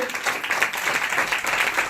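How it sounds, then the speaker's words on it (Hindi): A church congregation claps loudly and continuously during a Hindi sermon, dense steady applause filling the short stretch without any speech. "जोरदार ताली बजाएंगे"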